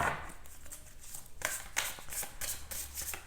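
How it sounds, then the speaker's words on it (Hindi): Tarot cards are shuffled and pulled by hand, giving a quick series of soft papery riffles and flicks, close and fairly quiet. "so let me just pull some more cards here"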